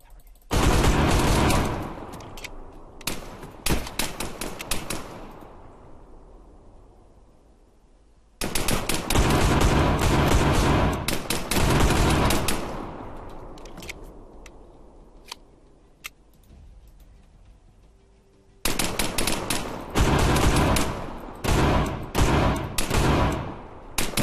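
Arma 3 video game gunfire crashes out in three bursts of rapid automatic fire, each volley followed by a long echoing decay into near silence before the next burst.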